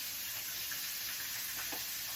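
Steady, even sizzling of chicken frying in hot grease, a constant bright hiss with faint crackles, fairly quiet and close.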